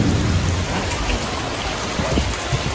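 Heavy rain with wind hisses in a dense, steady downpour, loud and close, with low gusty rumbling underneath.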